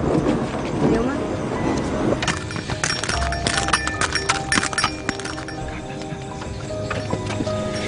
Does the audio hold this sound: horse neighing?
yes